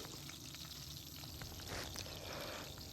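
Prawns frying in hot oil in a pan, giving a steady, soft, broadband sizzle with faint crackles throughout and no voices.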